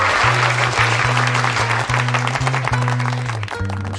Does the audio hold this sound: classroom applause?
yes